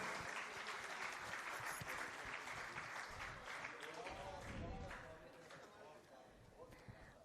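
Sustained audience applause at an awards ceremony in Dewas honouring social workers, dense and steady for several seconds before tapering off, with some talk mixed in.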